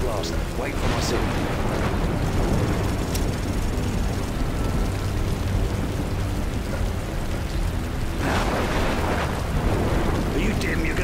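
Rumbling thunder rolls through a stormy Call of Duty: MW3 campaign scene, a loud low continuous roar with rain-like hiss and a stronger swell near the end, while characters speak over it.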